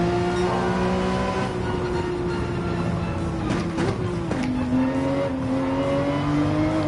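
Race car in Gran Turismo 7: a loud, steady high engine note that drops sharply with a downshift as the car brakes late, then holds at a lower pitch, close and alone.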